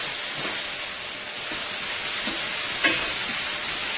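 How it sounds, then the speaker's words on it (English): Onion caramelizes in a pan with a steady close sizzle and hiss, a soft occasional stir or scrape breaking through the constant frying noise. "The onion is caramelizing nicely here."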